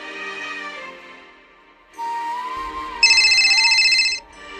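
A mobile phone ringtone plays nearby in bright, steady electronic melodic tones, shifting pitch partway through and ending with a louder buzzing burst, no voices over it.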